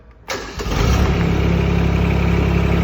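An Emax 20S compact tractor with a front loader cranks briefly and catches, then settles into a loud, steady diesel idle close by.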